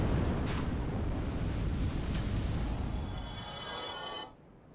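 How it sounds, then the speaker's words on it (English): A dragon breathes fire in Dark Souls Remastered, a loud sustained roaring whoosh of flame that fills the scene for about four seconds before cutting off sharply into quiet. "Go ahead and get him to breathe some more fire."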